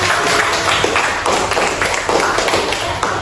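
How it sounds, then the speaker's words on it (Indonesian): Children clapping together in a classroom, a dense patter of small hands, steady and fairly loud from start to finish. "kasih tepuk tangan dulu. Jason."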